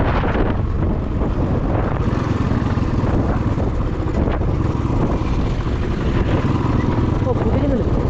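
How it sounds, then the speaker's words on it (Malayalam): Strong wind roaring across the microphone at the Kotagiri viewpoint in the Nilgiris, steady and loud throughout with a rumbling buffeting. "ഭയങ്കര കാറ്റും."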